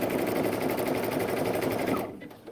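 A Baby Lock Anthem sewing machine stitches utility stitches in a steady, close, whirring run with rapid needle rhythm, then winds down and stops near the end.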